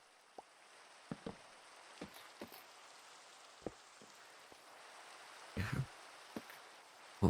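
Particle rain in a modded Minecraft survival game makes a faint, steady patter with scattered, irregular drip-like ticks.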